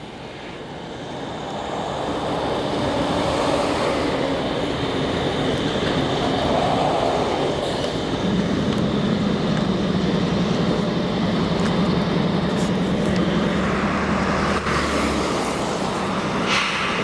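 A freight train led by an AC4400CW locomotive rolls past at Alyth, with a loud, steady roar of rumbling wheels and rail noise that builds in the first seconds and holds, a low engine drone joining partway through.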